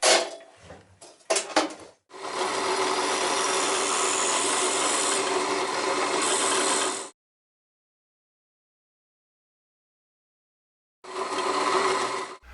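A band saw fitted with a wide 3/4 inch blade cuts wood for a wooden wheel, giving a steady rasping whine for about five seconds. Silence follows before the cut resumes.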